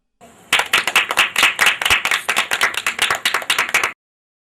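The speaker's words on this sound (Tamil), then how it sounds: "நாமெல்லாம் சேர்ந்து அவளுக்கு நல்ல ஒரு கைத்தட்டு கொடுத்துடலாமா?" Children at a Tamil Sunday school clap their hands together in a loud, close burst of quick claps lasting about three and a half seconds before stopping sharply.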